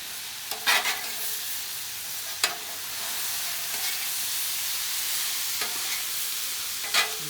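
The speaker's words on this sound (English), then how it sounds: "Again, I'm just going to stir that up." Teriyaki fried rice with butter being stirred on a Blackstone griddle: a steady, loud sizzle throughout, with a few sharp spatula scrapes and taps against the flat top, no talking.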